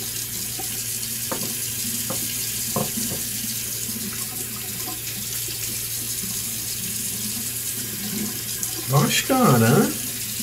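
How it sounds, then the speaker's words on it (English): Cold tap water runs into a sink as a face is rinsed after a Voskhod Teflon-coated razor shave, splashing near and loud for about a second toward the end over steady background hiss, with brief talk earlier. "I'm gonna wash my face off here, hold on."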